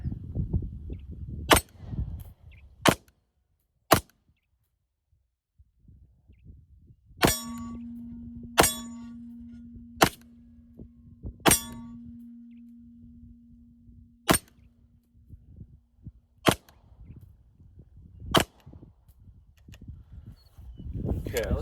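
Pistol shots from a Mete SFX handgun fired at a range, about a dozen sharp, loud reports spaced a second or two apart, with a low steady hum running under part of the string.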